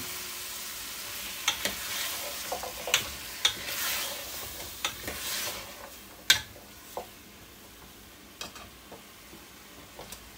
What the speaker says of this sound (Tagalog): At isunod na po natin itong chicken